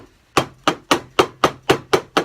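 A container of homemade body butter being tapped down on a surface, eight evenly spaced, close, solid knocks in a steady rhythm.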